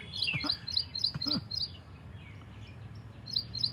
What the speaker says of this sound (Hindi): पता नहीं कितनी चिड़िया आ जाती हैं जब ये बातचीत होती है।